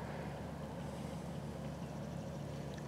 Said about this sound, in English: there's a farmer that's out with his tractor right now.